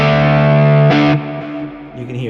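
Electric guitar played through an OD250 overdrive on a Quad Cortex, loud and distorted, with sustained chords ringing out, a brighter strummed hit near the middle, then decaying tones with a few softer notes.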